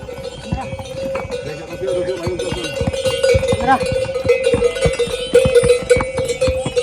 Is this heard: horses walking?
yes